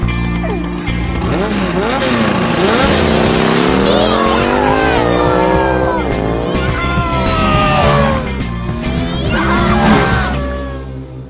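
A cartoon snowmobile engine whines and revs loudly, its pitch sweeping up and down over about eleven seconds, with speech mixed in over the motor.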